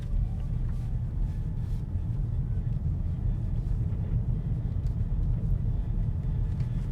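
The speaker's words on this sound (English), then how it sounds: "it does sound a bit different driving on my gravel driveway" An Xpeng G6 running on its smaller spare tyre rolls slowly over a gravel driveway, giving a steady, dense low rumble of tyre and crunch that holds unbroken throughout with no voices.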